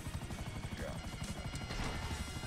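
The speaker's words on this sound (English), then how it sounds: "I went in my chopper. There's a helicopter." A video game helicopter's rotor thumps in a fast, steady pulse, faint and somewhat distant, continuing throughout.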